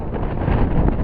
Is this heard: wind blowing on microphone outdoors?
yes